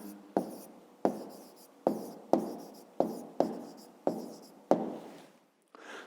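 A pen writes an answer by hand during a 5th-grade maths exercise: a series of about eight short scratching strokes, each starting sharply and trailing off, close and fairly quiet, with no talk.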